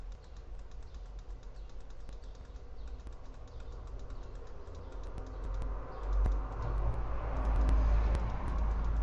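Rapid, dense mouse clicking in the browser game Darkensang, a steady stream of sharp little clicks running throughout over a low, rumbling game-sound background that swells toward the end.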